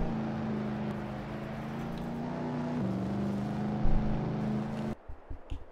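An auction barn find vehicle in Farming Simulator 22 drives with a steady droning engine hum that shifts pitch midway, then cuts off into a few brief knocks.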